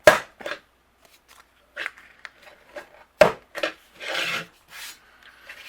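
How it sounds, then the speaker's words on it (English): A handheld corner rounder punch clicks through the top corners of a handmade greeting card, giving a few sharp close snaps spaced apart with soft paper rustles between them. "I'm going to bring in my corner rounder, and I'm going to round the corners at the very top of my card"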